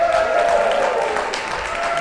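Festival crowd at the Northern Roots traditional music festival cheering and clapping continuously, a dense, steady wash of applause and voices with no pauses.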